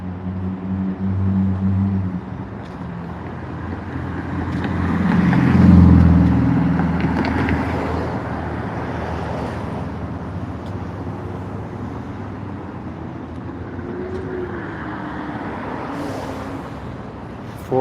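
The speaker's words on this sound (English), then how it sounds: "Oh wait, here comes the bus." A city bus pulls up to a stop outside a Jollibee in West Covina, California, its engine rumble swelling as it nears and peaking midway, then settling to an idle under steady roadside traffic noise.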